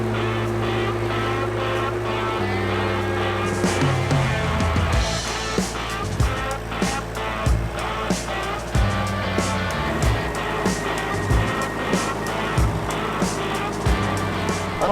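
A small Toyota truck laboring uphill at a yak ranch while hauling a heavy round bale, its engine droning steadily and loud throughout, with shifting revs and some rattling knocks mixed in.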